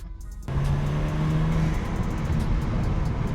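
A tuned BMW F30 328i with the N20 engine, whose steady engine drone starts abruptly after a brief quieter moment and then holds loud and close, with a low rumbling tone.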